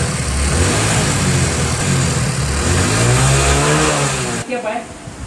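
A Hero Passion Plus motorcycle engine with a faulty spark plug cap and weak current runs loud and close, its tone wavering, then abruptly cuts out and sputters near the end.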